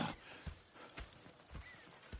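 Horses in a western video game, hooves clip-clopping in a slow walking rhythm with a brief whinny, quiet and close, with no talking.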